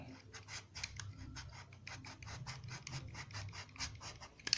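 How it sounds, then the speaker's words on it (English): A very sharp cutter skives leather for shoemaking, producing a rapid series of close, dry scraping and rasping strokes in a steady repeating rhythm, with no talking. "You can see the cutter is very sharp. Skive it off. And skive off this other end too."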